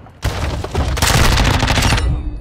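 In Call of Duty: Modern Warfare II multiplayer on PS5, loud close bursts of automatic machine gun fire start abruptly after a brief quiet moment and continue in two heavy rattling volleys before cutting off.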